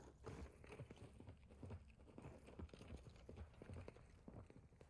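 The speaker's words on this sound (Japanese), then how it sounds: "めちゃくちゃ足音する。" Footsteps in Call of Duty DMZ patter and thud quickly, an even clip-clop rhythm of running steps played quietly against a faint background.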